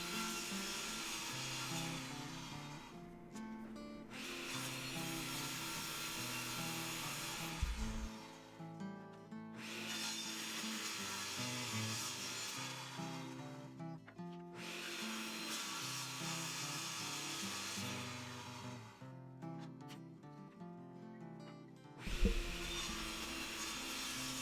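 A saw rips the edges off 2x4 lumber for a DIY bench in long, steady passes of harsh, buzzing cutting noise over a constant motor whine, with brief pauses between cuts.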